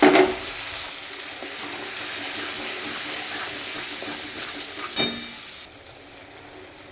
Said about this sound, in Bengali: তেলে আমি সাদা জিরে আর তেজপাতা ফোড়নে দিয়ে দিলাম।